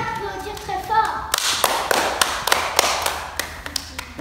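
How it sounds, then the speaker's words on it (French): An audience claps for a circus juggler, a burst of sharp, uneven hand claps close by that follows brief talk, with loud individual slaps standing out. "Et on peut l'applaudir très fort."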